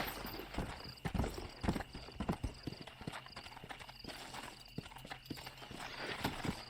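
Horse hooves clip-clopping on the ground in Red Dead Redemption, a steady run of close, distinct strikes with an occasional whinny, heard without talk.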